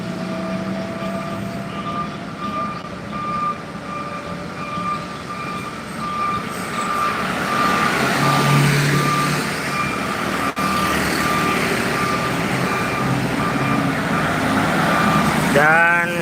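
Busy midday street traffic in central Barru, with a truck's reversing beeps sounding steadily over a continuous rumble of passing vehicles.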